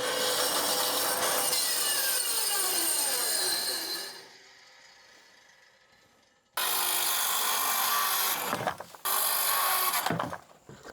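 A saw blade cuts wood for a cabin railing in two loud, rough bursts of sawing with a pause of near quiet between them, close by.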